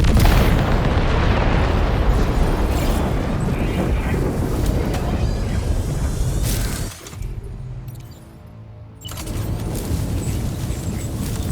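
Weapons firing and explosions in Death Stranding 2: On the Beach, a loud, continuous roar of blasts and shattering bursts, a brief drop in intensity midway, then heavy firing again.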